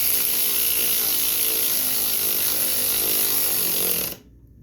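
A weak battery-powered tool runs continuously while tightening a plastic gas tank onto a Yard Machine 8 horsepower front-tine garden tiller, a close, steady high whine that cuts off abruptly near the end.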